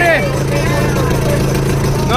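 A motorboat engine running on the Ganges at Varanasi near the ghats gives a steady low drone throughout, with voices talking over it.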